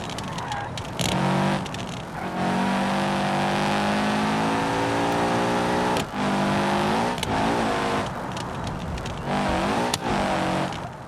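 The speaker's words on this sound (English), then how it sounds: "This is definitely a gas it on out really hard kind of car." A car in the BeamNG video game revs hard through the gears, its engine note climbing and dropping in repeated high-revving pulls with brief gaps at the shifts, loud and close throughout.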